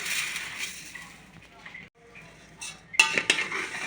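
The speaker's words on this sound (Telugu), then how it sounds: "లో ఫ్లేమ్లో పెట్టి రోస్ట్ చేసుకోండి లైట్గా" A spoon scrapes and clinks against a pan as ragi vermicelli is stirred and lightly roasted over a low flame, with irregular close taps and a faint sizzle.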